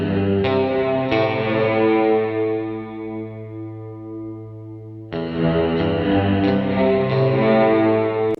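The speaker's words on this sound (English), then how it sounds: "you can hear the movement, the natural movement of the reverb" A heavily effected, distorted tone sustains and slowly decays through a McDSP FutzVerb reverb with shifting, moving tails, then a second chord strikes loudly and rings on; no talk.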